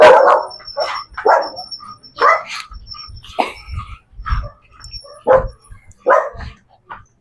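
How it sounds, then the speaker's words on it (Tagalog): Several dogs barking in bursts on a mountain trail, loud, close and repeated, with short pauses between the barks. "Dami aso dito."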